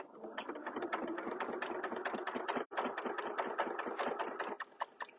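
A sewing machine doing free-motion quilting hums in a fast, steady stitching rhythm, close and continuous with one brief pause, then stitches on before stopping.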